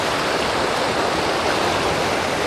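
A river rushes through Scaddle Glen, its water heading down toward Loch Linnhe, a loud, close, unbroken roar of flowing water with a steady texture throughout.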